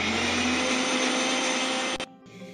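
Mixer grinder blending spinach with salt and green chilli into a paste, a loud steady whirring motor that runs for about two seconds, then cuts off abruptly and winds down.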